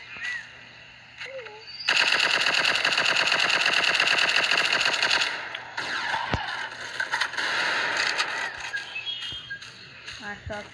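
Automatic gunfire in the video game Counter-Strike, a loud sustained rattling burst followed by scattered shots and clatter, with a voice speaking briefly.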